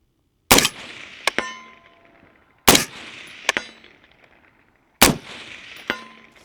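Three rifle shots fired at a steel target about 300 yards away at a shooting range, each a loud, sharp crack followed about a second later by a fainter metallic ring from the distant steel plate, evenly spaced with no talking.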